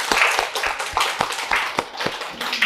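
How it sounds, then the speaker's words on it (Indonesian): A small group claps in a quick, uneven patter, hands striking close by for a few seconds. "tepuk tangan lah untuk mereka"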